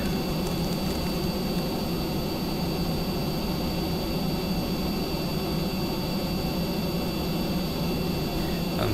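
A steady, loud jet roar with an afterburner comes from an F-104 replica aircraft in Kerbal Space Program, a continuous broadband rush with no pauses or talking.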